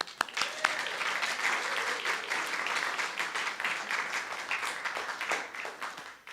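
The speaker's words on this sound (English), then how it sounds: "Now you can applaud." An audience gathered for a church service breaks into applause, with several sharp early claps swelling into a dense, sustained round that carries on at a moderate, even level.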